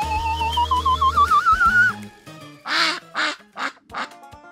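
Giant cartoon duck quacking in an animated 3D scene, four loud nasal quacks in quick succession following a wavering whistle-like musical sweep.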